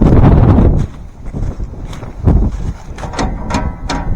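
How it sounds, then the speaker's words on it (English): Strong wind gusting outdoors on a farm beside grain wagons during a corn harvest, buffeting loudly at first and then easing into fluttering, uneven bursts with scattered knocks and rattles. "If you haven't noticed already, that's pretty windy too."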